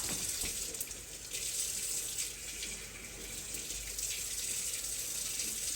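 Steaming hot water poured from a kettle into a cooking pot, a continuous splashing gush of liquid at moderate level lasting several seconds, no voices.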